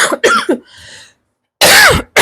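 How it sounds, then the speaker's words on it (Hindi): A person coughs harshly in two close, loud bursts: a cluster of rough hacks, a short quiet gap, then another strong fit of coughing. "मुझे अभी भी खांसी है।"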